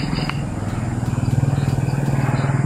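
A motorcycle engine putters nearby with a steady, rapid pulsing beat that grows slightly louder as it passes, set against faint background noise.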